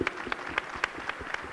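Audience clapping at an economic council panel event, a short burst of scattered, fairly light claps in an uneven rhythm, moderately distant in a room.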